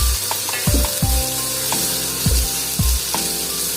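Vegetables and whole spices, including chili, cinnamon stick and cloves, frying in a pan while being stirred, a loud continuous sizzle broken by repeated rhythmic knocks and scrapes of the spoon.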